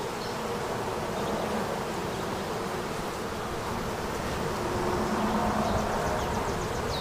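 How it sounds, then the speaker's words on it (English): Honey bees swarm around a hive frame holding honey and capped brood, making a dense, continuous buzzing drone that stays close and even throughout, with no voices. "I think I might put my gloves on before I start shaking the bees off here."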